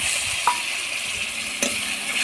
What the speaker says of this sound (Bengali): সর্ষে পোস্তটাকেও অল্প কষে নেব।